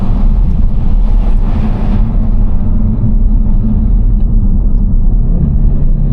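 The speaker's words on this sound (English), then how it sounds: "Yes, 5-cylinder, baby. Let's hear how it sounds like with everything closed up." A 2014 Audi RSQ3's 5-cylinder engine, heard from inside the cabin with the windows closed, gives a steady, loud low-pitched drone and rumble throughout as the car drives, with no voices.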